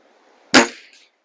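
A Walther LGU air rifle fires a single H&N Barracuda Match pellet, one sharp, close crack with a short fading tail in an otherwise quiet space.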